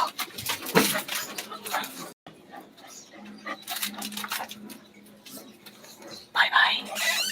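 A chow chow dog makes whimpering, yipping noises indoors, mixed under a person's continuous talking and background noise throughout.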